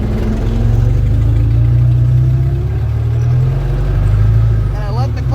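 A 1927 Ford Model T roadster moves off in low gear, its engine a loud, close, steady low drone with a rhythmic pulse, while a person talks over it.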